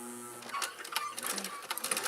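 A sewing machine runs slowly through a thick apron seam, giving a soft, uneven mechanical whir with light stitching clicks at close range and no talk.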